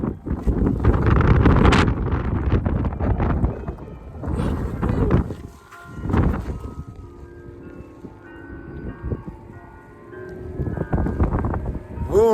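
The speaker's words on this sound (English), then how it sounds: "Here are those big gusts!" Strong wind gusts roar across a snowy outdoor spot during a winter storm, buffeting the microphone in loud surging waves that ease and build again over several seconds, with brief shouts in between.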